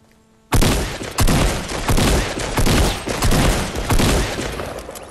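Loud video game gunfire erupts after a brief quiet, a dense rapid fusillade of shots in repeated bursts that dominates the scene.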